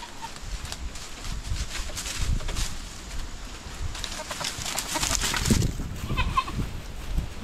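A goat bleats briefly over a background of rustling and scuffing outdoor noise.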